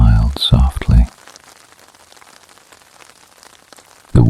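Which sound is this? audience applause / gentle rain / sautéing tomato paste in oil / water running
gentle rain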